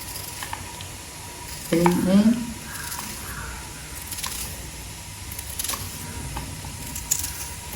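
Onions sizzle in a home kitchen pan, a low steady fry with a brief clatter of stirring near the start and voices talking over it.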